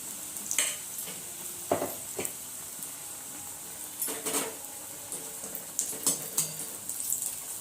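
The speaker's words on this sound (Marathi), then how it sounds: "हे पण आपण फुल फ्लेमवरच तळून घ्यायचं आहे" Pav vada deep-frying in oil over a full flame, with a bright steady sizzle and intermittent scrapes and clatters of a utensil in the pan. No one speaks.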